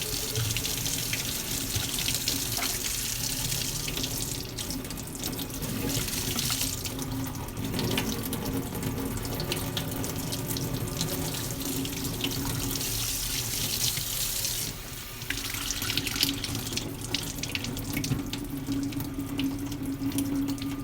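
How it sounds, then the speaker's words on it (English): Tap water runs steadily into a sink for about twenty seconds, a continuous close splashing stream rinsing out a grimy vessel, with brief shifts in the flow's texture partway through and no talking. "Let's let some fucking clean water run through it."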